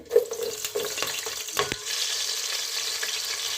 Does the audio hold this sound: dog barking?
no